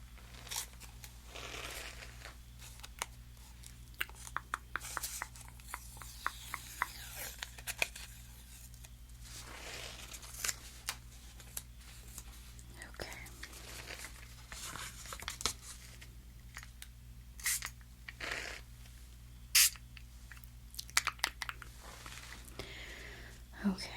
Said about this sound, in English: let me grab a sheet of paper